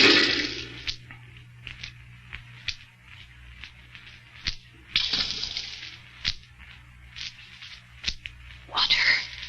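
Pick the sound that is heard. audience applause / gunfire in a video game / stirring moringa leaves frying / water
water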